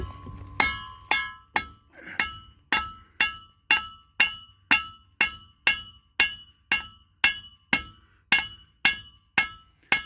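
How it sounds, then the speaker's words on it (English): A hammer pounds the rear end of a Ford F-350 truck with about nineteen loud, evenly spaced metallic blows, each ringing briefly before the next, with no talk over them. "Hit it with a bigger hammer."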